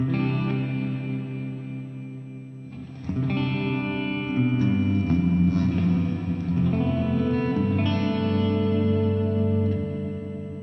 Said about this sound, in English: It's a very boomy reverb this way.